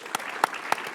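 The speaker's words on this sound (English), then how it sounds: "Now we have to applaud everyone." Audience at a sports analytics conference panel claps for the panelists as they are introduced, a brief burst of steady applause with a few sharper peaks.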